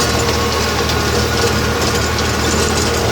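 New Holland 3630 tractor engine running unloaded, set up for rotavator work: a loud, steady, close diesel drone with a constant rumble and no voices.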